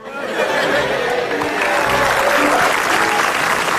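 Studio audience clapping steadily throughout at an Indonesian comedy talk show, loud and dense, with scattered laughter and chatter mixed in.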